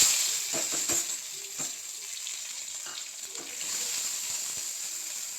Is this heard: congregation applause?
no